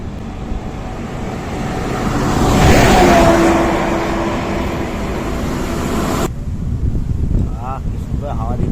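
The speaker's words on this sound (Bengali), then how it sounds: "কি সুন্দর হাওয়া দিচ্ছে।" Wind rushes steadily across the microphone at a roadside stop on a solo motorbike ride through South India, swelling in the middle as a vehicle seems to pass, then easing to a softer breezy hiss.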